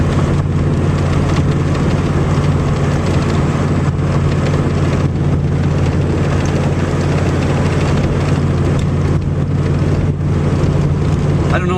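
A 6.5 diesel engine fitted with an HX35 turbo runs at a steady cruise, a constant loud droning rumble with a strong low hum and broad road noise, unchanging throughout.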